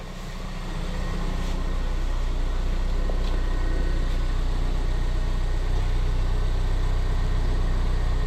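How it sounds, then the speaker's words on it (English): A 2024 Toyota Tacoma TRD Off-Road with a turbocharged four-cylinder engine idles, heard from outside the truck as a steady, subdued low hum that holds even throughout. "I want to listen to the idle of this truck from outside"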